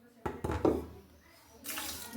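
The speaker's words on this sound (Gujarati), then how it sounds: "હવે આપણે ખાંડ ડૂબે ને એટલું પાણી નાખી દઈએ" Water poured into a pan holding a bowl of sugar to make syrup for a sweet made with roasted, crushed peanuts: a few close knocks, then a steady, fairly loud splashing pour near the end.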